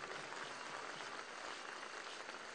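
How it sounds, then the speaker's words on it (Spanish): Audience applause at a ceremony retiring a baseball player's number, a steady wash of clapping at moderate distance with no talk over it. "Por eso y más, un fuerte aplauso para Carlos Valencia en este homenaje"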